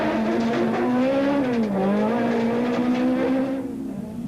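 Rally car flat out on a forest stage, a loud close engine howl with rising and falling pitch through fast gear changes, easing off toward the end.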